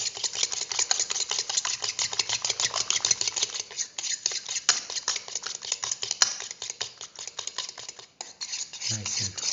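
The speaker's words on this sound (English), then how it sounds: "mix the sugar with the white of the egg" Sugar and egg white are whisked briskly in a bowl, a rapid, rhythmic scraping and clinking of utensil against the sides, close and continuous, slowing briefly near the end.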